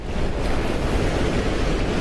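Ocean swell and surf breaking along a South African shoreline, a loud, steady wash of churning water with constant roar and wind noise, no voices.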